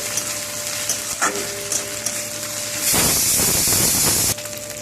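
Ginger and green chili paste fry in hot oil with a steady close sizzle. A loud, hissing burst of spattering flares for about a second and a half, then settles back, with no talk.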